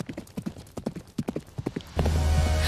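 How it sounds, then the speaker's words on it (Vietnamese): Horse hooves clip-clopping in a steady trotting rhythm in an animated folk tale, crisp and fairly close, giving way to a loud rushing wind-like noise near the end. "Tiếng lóc cóc gió ngựa từ đâu đó nghe rõ dần."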